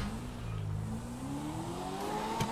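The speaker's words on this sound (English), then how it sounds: "this car sounds sweet it's got some power to it" A car engine in Grand Theft Auto 5 revs upward, its pitch climbing smoothly as it accelerates, a sharp snap near the end.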